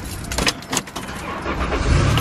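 A car engine cranks and starts on a car with battery trouble and broken air conditioning, a rough broadband rumble with a few rattling clicks that settles into a steady low idle near the end.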